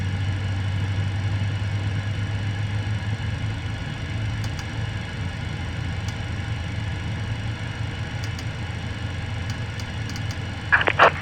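An MD-80 jet engine runs steadily at idle in a flight-simulator cockpit during startup, a continuous low drone with a few faint clicks and a brief louder burst at the end.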